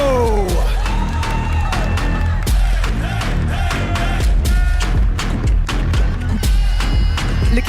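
A large arena crowd at the Brawl Stars World Finals 2025 esports event cheers loudly and continuously, with whoops, yells and whistles forming a steady dense roar.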